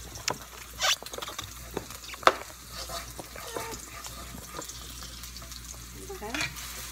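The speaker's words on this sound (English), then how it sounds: "Cosmos is frying the onions" Onions frying in a pan for a meat and veggie clay pot dish, a soft close sizzle with a few louder stirring scrapes and clacks, no talking.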